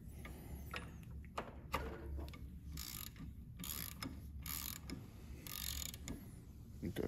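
A plug on a 2002 Ford 7.3 Powerstroke diesel being tightened with a ratchet wrench, faint close ratcheting clicks and creaks in short bursts, without speech.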